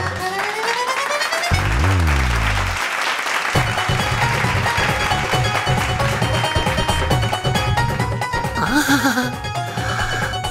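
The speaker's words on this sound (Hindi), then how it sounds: "पहली बार है मिल रही मुझे तालियां" An audience bursts into loud, sustained applause, heavily mixed with playful background music and comic sound effects throughout.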